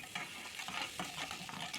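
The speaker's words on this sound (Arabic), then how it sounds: "وبدأت كده ان انا اقلب تقليب مستمر" Garlic and chopped hot chili frying in a little oil in a pan while being stirred continuously, a steady close sizzle with scraping stir strokes throughout, no talking.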